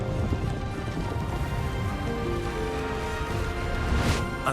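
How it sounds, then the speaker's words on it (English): Steady, dense rainfall hisses continuously as a story sound effect, even and fairly loud with no pauses and no voice over it. "Until the retroact rain began to fall."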